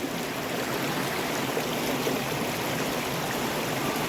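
A creek along a Sydney bushland walking track flows continuously, a steady, fairly close rushing and trickling of water with no one speaking.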